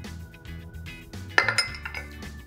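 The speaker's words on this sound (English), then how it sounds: "Gently mix the crab together" Crab meat and Italian seasoned breadcrumbs being mixed in a bowl, with a utensil clinking and scraping against the bowl in short, light strokes, close up.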